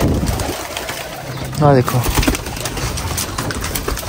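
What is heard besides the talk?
pigeons cooing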